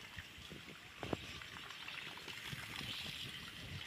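A child splashing and playing with water at a borewell on a farm, a soft continuous pouring and trickling wash with a few brief splashes, faint and fairly close.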